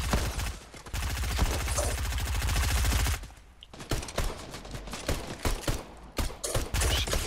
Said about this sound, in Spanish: No, ya lo están disparando.